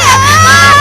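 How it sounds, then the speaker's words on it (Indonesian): Girls screaming loudly in an Indonesian TV drama, a sustained high-pitched wailing cry held without a break over a brief burst. "itu suara teriakan Ayu sama Raras"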